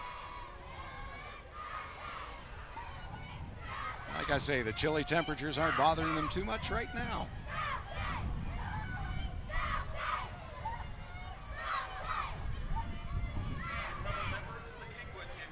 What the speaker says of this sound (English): I love hearing these youngsters cheer.